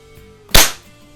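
A single sharp, loud crack from a .177 air pellet pistol, a BSA Scorpion or Ampell Acro 1, fired at a bowl target. The report decays quickly into quiet, with no talk.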